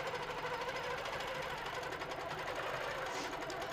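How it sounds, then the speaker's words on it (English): Close, continuous whirring of a sewing machine quilting along a circle ruler, running at an even speed for the whole stretch. "So we're going to stitch along here,"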